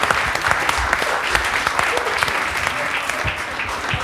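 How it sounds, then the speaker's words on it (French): Studio audience applause on a French talk show, a steady dense wash of clapping hands sustained throughout at moderate level, with no speech over it. "L'applaudissement s'il vous plaît."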